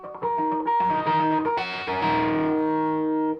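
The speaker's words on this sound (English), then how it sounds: "It might be a little bit more expensive than some of their pedals because it's a boost and a distortion." An electric guitar played through a Caline CP-15 boost and distortion pedal rings out in sustained, overdriven chords, loud and continuous with rich harmonic layers and no talk.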